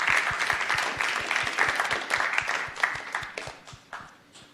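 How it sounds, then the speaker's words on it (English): Steady applause from an audience at a school board meeting, a dense patter of many hands clapping that fades slightly toward the end. "How about a round of applause for them?"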